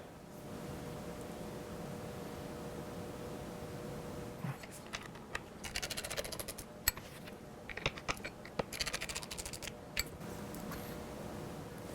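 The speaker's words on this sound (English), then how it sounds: "You're going to need a small ratchet to be able to get in there and make it tight." A small ratchet tightens Torx 20 screws on Spyder F3 passenger floorboard risers, producing faint, quick clicking bursts at close range over a low background hiss.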